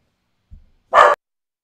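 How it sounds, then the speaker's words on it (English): After a faint thump, one short, clipped dog bark sounds nearby, then silence. "She likes to bark."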